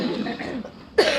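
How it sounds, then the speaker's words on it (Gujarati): A single short, close cough from a man at a teachers' gathering, followed by a sharp throat-clearing burst at the end. "ખાંસી મને છે થોડી પણ પાણીપુરીથી નથી."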